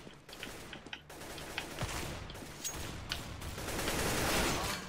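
Rapid bursts of gunfire from a CS:GO match in a multiplayer shootout, a continuous crackling fusillade with scattered sharper shots, building louder toward the end.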